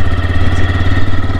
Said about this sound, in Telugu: జస్ట్ వన్ క్లిక్ చేస్తే చాలు ఇంజన్ ఈజీగా ఆన్ అయిపోతుంది